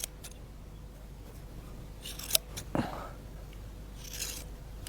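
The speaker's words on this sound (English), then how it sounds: "It's done with scissors, making these little cuts" Several quiet, isolated snips of scissors trimming a donkey's hair, a few brief crisp clicks spaced apart over a faint background hiss.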